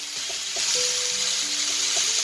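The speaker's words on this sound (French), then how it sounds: "Donc je les fais griller" Marinated turkey skewers sizzle steadily on a grill, a loud continuous hiss and crackle that swells slightly partway through, with a few faint clicks and tones beneath.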